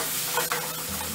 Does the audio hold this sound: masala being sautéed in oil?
yes